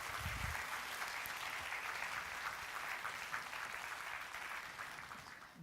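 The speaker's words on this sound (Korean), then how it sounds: "여러분 뜨거운 박수로 맞이해 주시기 바랍니다" A church congregation gives a warm round of applause during a Sunday worship service, a sustained patter of many hands clapping that fades slightly toward the end.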